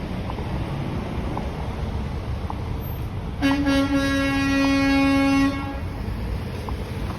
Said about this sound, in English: Wow, what a loud honk from that dump truck.